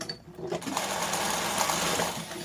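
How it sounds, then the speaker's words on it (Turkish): Sewing machine stitching back and forth over the joint of two cords of rope while sewing a small beach bag, a rapid continuous mechanical whir, close and steady. "Şu iki ipin birleşim yerinde yalnız şöyle ileri geri sarma yapıyorum ki o uç kapansın"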